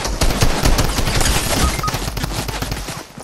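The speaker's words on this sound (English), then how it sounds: "Miniguns!" Minigun fire in Fortnite, a dense rapid stream of shots roaring loud and close for a few seconds before easing slightly toward the end.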